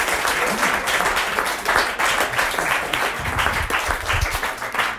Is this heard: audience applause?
yes